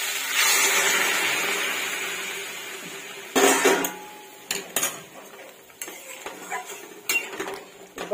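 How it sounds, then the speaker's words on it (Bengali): Hot water pours into a pot with a rushing, gradually fading stream, followed by clinks and knocks of metal utensils against the pot. "গরম জলটা ঢেলে দেব"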